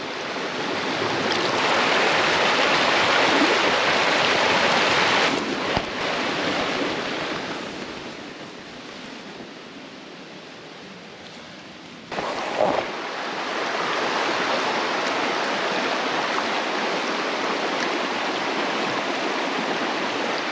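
A creek's water flows and rushes steadily nearby at a camping and fishing spot, a broad continuous wash that dips quieter midway, with a few close knocks before swelling again.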